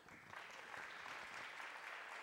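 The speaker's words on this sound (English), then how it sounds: "give him a big round of applause" Brief burst of dense crowd applause at a steelworkers' Nickel Day kickoff event, steady and continuous, heard at a distance and fairly faint.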